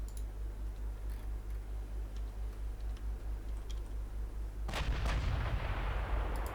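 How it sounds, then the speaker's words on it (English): Large 16-inch, 60-calibre naval guns firing in a video game, a sudden heavy broadband boom about two-thirds in that rumbles and decays over a steady low engine-like drone. "My 16s are firing, maximum range of 45 kilometers."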